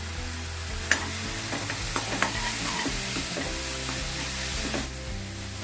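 Spring onions being stir-fried and mixed in a pan for Manchurian, a continuous bright sizzle broken by a few sharp clicks and scrapes of the spoon, close and without speech.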